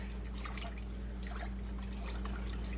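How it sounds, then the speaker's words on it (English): Chicken corn soup is stirred in a pot, giving soft liquid sloshing and gentle trickling over a constant low background hum, with no talking. "I'm going to give that a stir."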